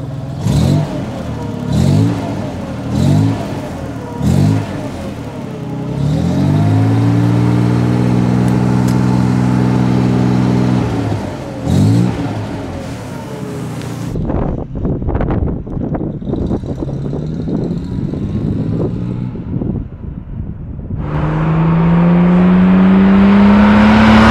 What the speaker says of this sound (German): dieser Motor wirklich nicht nur auf Schlag anspringt, sondern wirklich seidenweich läuft